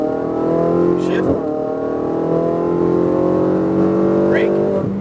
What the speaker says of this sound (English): squeezing back onto that throttle as you accelerate up the hill to the right-hand side